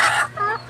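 An older bantam chicken, a small breed of domestic fowl, gives a short, close burst of clucking that fades into softer, throaty cackles.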